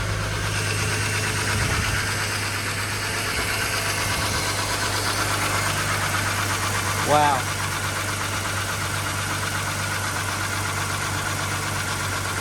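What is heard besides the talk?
Ford BF XR6 engine idling after VCT solenoid replacement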